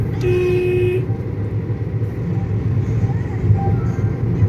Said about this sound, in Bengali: আরেকবার হর্ন দাও